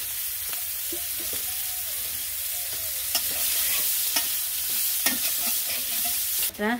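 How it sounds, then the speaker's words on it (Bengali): Chopped onions fry in hot oil left over from frying fish, giving a steady, close, loud sizzle punctuated by occasional stirring clicks, with no one speaking. "এখন আমি এখানে কয়েকটা পেঁয়াজ কুচি দিয়ে দেবো, কোচানো পেঁয়াজ।"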